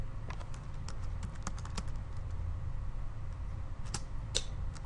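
Scattered, uneven keystrokes on a computer keyboard, close and fairly quiet over a low steady hum, with no speech.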